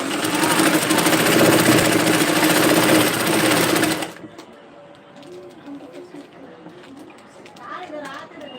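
Sewing machine stitching a dress hums loudly and steadily for about four seconds, then stops, leaving a quieter room where someone talks.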